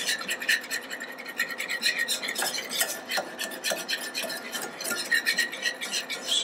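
Melted butter and flour stirred in a pan to brown into a roux, a continuous close scraping and rasping of a spoon against the pan bottom in quick repeated strokes, fairly soft, no voices.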